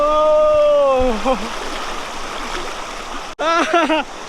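Ghagra mini waterfall and a strong stream at Karudih in Jharkhand, a broad, constant rush of water beneath loud, close voices calling out at the start and end.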